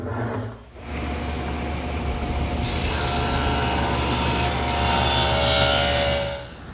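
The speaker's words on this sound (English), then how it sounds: "Now I'll make the rabbet over on my table saw." Table saw cutting a rabbet in wood stock for an armoire shelf, a loud steady whine after a brief dip at the start, with a broad roaring hiss through the cut and fading at the end.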